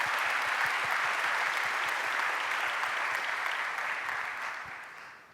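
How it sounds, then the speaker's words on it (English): Sustained applause from a large conference audience at a youth leadership summit, steady and dense throughout, then fading toward the end. "I think that applause was"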